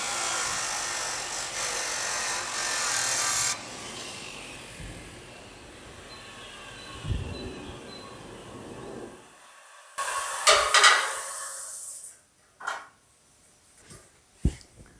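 A metal rod on a wire frame buck for a 1940 Ford coupe-style hot rod is trimmed with a loud, hissing cutting burst, followed by quieter handling noises and a few sharp clinks.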